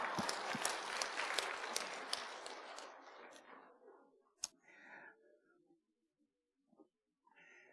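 Church congregation at an evening worship service claps in a dense burst of applause that fades out after a few seconds, followed by a few scattered isolated claps in a quiet room.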